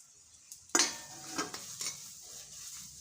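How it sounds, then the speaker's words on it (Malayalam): Onion and grated coconut frying in a pan for rava upma, a sudden spoon clank followed by soft scraping stirs over a light sizzle, close and quiet, with no talk. "നമ്മുടെ ഉള്ളി നന്നായി മൂത്ത് വരുന്നുണ്ട് കേട്ടാ നമുക്ക് നമ്മുടെ നാളികേരം കുറച്ചിട്ട്"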